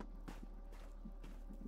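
Footsteps in the Roblox video game, a few quiet, soft steps tapping at an uneven pace over a faint low background hum.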